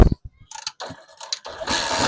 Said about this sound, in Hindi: बाइक स्टार्ट हो गया।